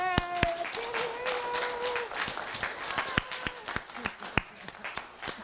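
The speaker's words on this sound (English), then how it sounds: "let's give them a hand, but I want you to cheer real loud" Audience applauding and cheering for students' parents at a school event, with scattered sharp claps and tonal whoops over a murmuring crowd, voices briefly calling out.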